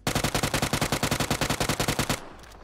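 A UMP45 submachine gun fires in the video game PUBG: a rapid, evenly spaced burst of about twenty loud, close shots lasting two seconds, ending with a short fading tail.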